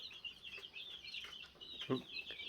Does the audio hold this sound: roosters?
yes